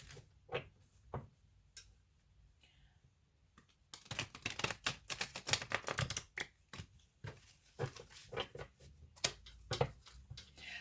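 Cards being shuffled up close: a few scattered flicks, then a longer run of rapid riffling and tapping, fairly quiet with no speech.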